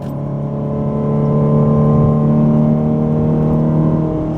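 A Ford Fiesta fitted with a tuning chip accelerates hard through third gear toward its power band, its engine drone loud, close and steady with a rising, sustained tone.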